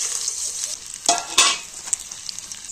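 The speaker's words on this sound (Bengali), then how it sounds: "আমটা দিয়ে তেলের সঙ্গে একটু ভালো করে কিন্তু ভেজে নেব।" Mango pieces fry in oil for pickle, giving a steady, close hiss with a few louder bursts and clinks as they are stirred.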